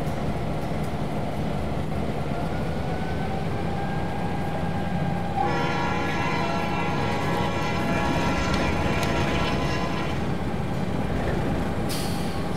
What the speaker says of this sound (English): Somebody just fire up that alco behind me. Did you hear that?